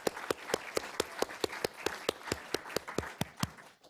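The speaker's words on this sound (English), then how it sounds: "Let's have a round of applause for" Sharp, evenly spaced claps ring out in a steady rhythm, about four per second, close and distinct rather than a dense crowd wash, at a healthcare research gathering.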